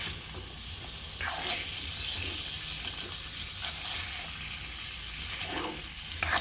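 Vinegar and pickling spices for Mauritian fish vindaye sizzle steadily in a hot pan, a continuous bright hiss with occasional stirring scrapes and spits, close and moderately loud with no voices.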